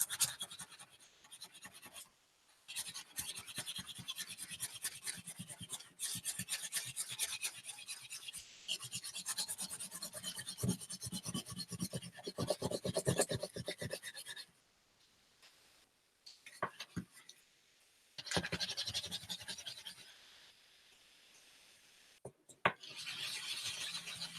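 Paper rubbed by hand across an inked reduction print block, making dry, close scratching and rasping strokes in irregular bursts separated by brief quiet gaps.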